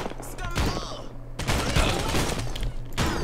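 Rapid gunfire bursts from turrets in the video game Postal Redux, loud and dense, with short gaps between volleys and layered impacts.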